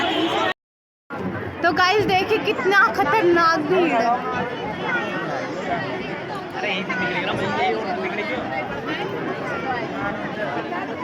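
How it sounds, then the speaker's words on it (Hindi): A dense crowd at the Gangaur festival, loud overlapping chatter and shouting close by after a brief silent gap, a continuous hubbub with a voice speaking in it. "तो गाइस देखिए कितना खतरनाक भीड़ है।"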